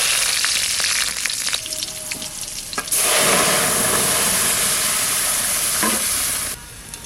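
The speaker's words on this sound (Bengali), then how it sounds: "এবার ফোড়ন দেবো, সরষের তেল দিচ্ছি।" Black cumin and green chillies crackle in hot mustard oil for a hilsa fish curry. A steady, close sizzle bursts louder partway through, holds as a dense hiss, then drops off sharply near the end, with no talk.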